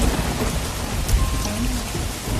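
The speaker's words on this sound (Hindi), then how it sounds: "तब तक बारिश और तेज होने लगी थी।" Heavy rain pours down steadily, a dense hiss of drops with a low rumble underneath, loud and close throughout.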